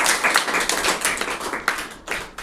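Students in a Class 6 classroom in Bihar clap loudly for children picked to come forward, a steady dense burst of many hands lasting a couple of seconds with brief dips.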